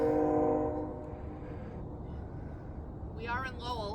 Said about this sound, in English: Thank you, train.